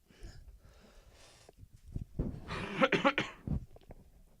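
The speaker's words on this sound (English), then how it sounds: "I'm sort of getting over being sick, so I've got a little bit of a cough" A few close, rough coughs from someone recovering from an illness burst out after some quiet breathing and rustling, growing louder toward the middle before settling.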